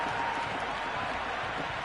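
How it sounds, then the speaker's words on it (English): A stadium crowd in the Cricket 26 video game on PS5 roars after a boundary four in an IPL final between RCB and GT: dense, steady cheering and applause for the whole short stretch, loud and close. "Crowd love that one."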